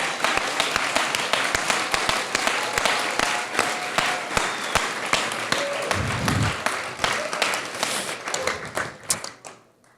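An audience at the closing cocktail of the Raid applauds steadily, a dense, sustained clapping with sharp individual claps that fades away toward the end.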